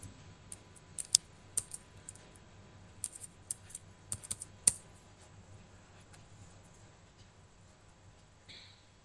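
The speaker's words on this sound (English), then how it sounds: "I am entering the password." Sharp keystrokes tapped on a computer keyboard while a password is entered, a run of separate clicks scattered over the first five seconds before a quiet stretch, close and fairly soft, with no one talking.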